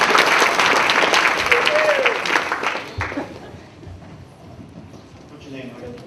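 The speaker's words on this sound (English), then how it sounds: "Let's give him a round of applause," A college speaker-series audience breaks into loud, dense applause that swells in the first few seconds, then thins and tapers off into scattered claps and murmuring, with voices talking.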